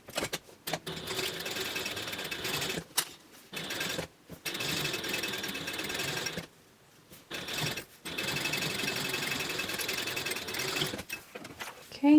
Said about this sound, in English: we're going to sew this at 3/8 of an inch seam allowance